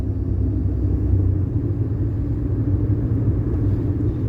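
A Ford Fiesta Mark III on the road gives a steady low engine rumble with road noise, continuous and close, as if heard from inside the moving car.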